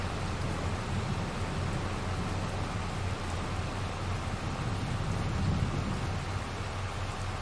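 Steady rain pours in the Farming Simulator 22 video game, a dense, even hiss with a low rumble underneath, continuous and unbroken throughout.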